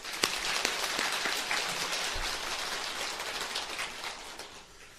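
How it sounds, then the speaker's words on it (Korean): Worshippers at a Buddhist temple service clap together at the close of a lunar-month prayer period, a dense, even patter of many hands that holds steady and then gently thins out. "큰 박수 한번 칩시다"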